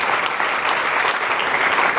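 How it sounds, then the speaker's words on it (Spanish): A church congregation applauds in steady, dense clapping that holds evenly from start to finish, with no talking over it. "Alguien le aplaude al Señor una vez más con alegría."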